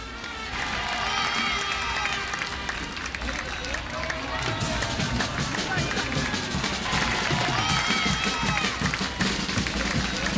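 A roadside crowd applauds and cheers the yellow jersey at a Tour de France stage start in Lavelanet, a dense, steady wash of clapping and voices that holds loud throughout.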